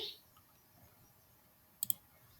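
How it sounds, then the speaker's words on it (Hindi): A quick double computer mouse click sounds near the end, sharp and close in an otherwise quiet room. "क्लिक करेंगे हम क्रिएट न्यू पे"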